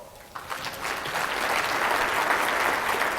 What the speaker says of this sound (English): let me hear by show of applause